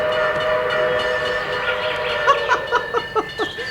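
A locomotive whistle sounds with sustained tonal blasts, then a series of short rhythmic toots, fairly loud and clear over faint rail noise.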